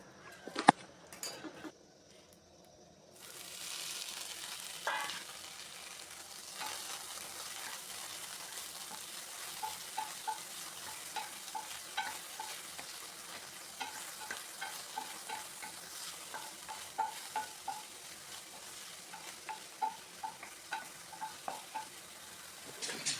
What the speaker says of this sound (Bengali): ঘিটা একটু গরম হয়ে গেলে নুন মাখানো ফুলকপিটা ছেড়ে দেব, এবং ফুলকপিটা 2-3 মিনিটের মতন ভাজবো